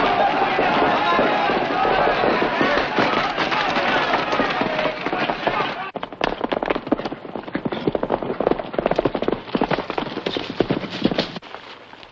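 Gunfire in a western film: a loud, dense run of rapid cracking shots over several seconds, then continuing as a series of sharp separate bangs, with galloping hooves and voices mixed in.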